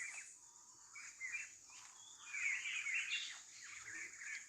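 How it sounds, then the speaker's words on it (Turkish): Birds chirp and twitter in the background, a busy overlapping chorus of quick high calls, faint and somewhat distant. "Arkadan da kuş sesleri geliyor."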